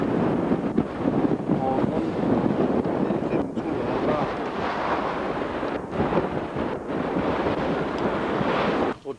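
Rough North Sea seen from a sailboat offshore around Denmark in 1996: a continuous loud roar of wind buffeting the microphone over crashing waves, steady for the whole stretch, with no voices.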